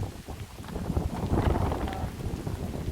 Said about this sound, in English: the wind comes on and off, and when it blows